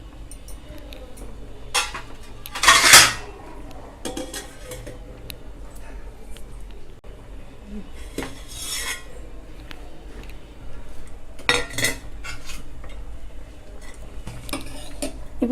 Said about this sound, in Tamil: நடுவில் 2-3 முறை இந்த மாதிரி கிண்டி விட்டுக்கோங்க